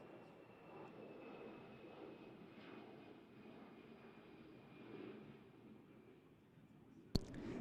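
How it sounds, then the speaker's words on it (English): Jet aircraft passing overhead during an outdoor American football game between the Northumberland Vikings and Gateshead Senators, a steady broad engine roar holding through the whole stretch, with no talk over it. "let's wait till that jet goes past."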